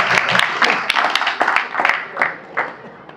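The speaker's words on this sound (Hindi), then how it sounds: "तालियां बजाइए" Audience applause at a spiritual gathering, with a burst of clapping that thins to scattered claps over a few seconds, heard up close and moderately loud.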